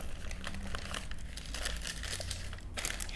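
Fabric crinkles and rustles continuously as a first and second layer are folded over for drafting a circle skirt pattern, the close, steady handling sounds filling the whole stretch with no talking.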